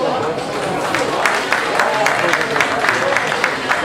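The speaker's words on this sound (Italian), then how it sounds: "Un applauso anche al direttore di gara" Crowd at a boxing match applauds the referee, sustained clapping with a few cheers spread evenly under an announcer's voice speaking over it.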